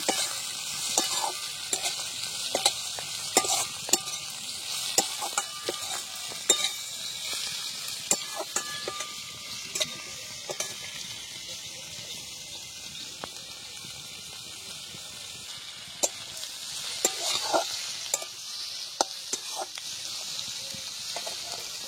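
Slit green chillies and chopped tomatoes fry in a pan with a steady, fairly quiet sizzle, broken by frequent sharp clicks and scrapes of stirring, close and without voices.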